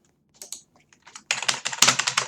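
Irregular bursts of computer keyboard typing as a random code is entered: a few sparse keystrokes at first, then a fast, dense clatter of keys, close and loud, with no talking.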